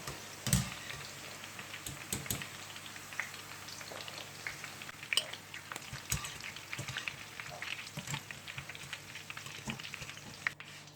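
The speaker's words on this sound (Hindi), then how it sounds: "करेले तकरीबन फ्राई हो चुके हैं।" Sliced bitter gourd (karela) sizzles gently in a frying pan, a quiet, steady crackle and patter with scattered sharper pops throughout; no speech.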